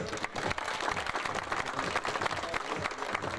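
A crowd at a 2008 sports festival in Buenos Aires claps in sustained, dense applause, loud and close, continuing evenly throughout without a break.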